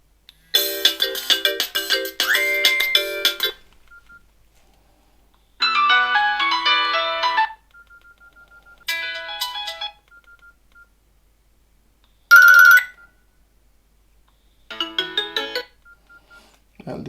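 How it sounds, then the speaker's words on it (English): A Nokia N95 mobile phone plays a series of ringtones one after another: bright, tonal electronic melodies in short bursts, separated by quiet gaps, close and clear with no talking. "definitely ringtones"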